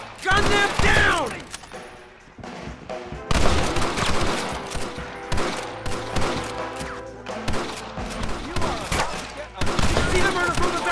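A shootout in Red Dead Redemption brings dense, loud bursts of rapid gunfire in repeated volleys, with shouting voices mixed in among the shots.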